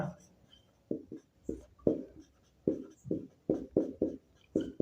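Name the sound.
writing names of organisms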